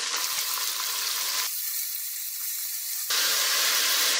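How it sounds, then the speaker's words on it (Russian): Steady, dense sizzling of carrots, onion and pepper frying in hot oil, with a brief dip in the hiss midway before it swells back up; close and continuous. "В сковороду в это же масло я высыпаю морковь, лук и перец."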